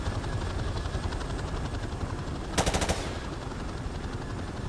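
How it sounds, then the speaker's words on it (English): A short burst of rapid automatic gunfire in Call of Duty Modern Warfare Remastered, heard mid-distance over a steady engine-like drone during a helicopter approach to a shoreline. "Taking fire here."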